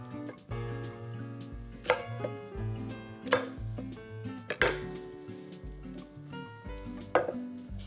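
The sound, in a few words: knife cutting asparagus and scallions into pieces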